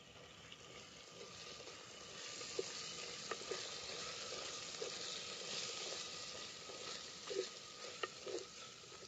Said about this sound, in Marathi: परत हे वाटण टाकून 1 मिनिटभर चांगलं परतून घेतलं.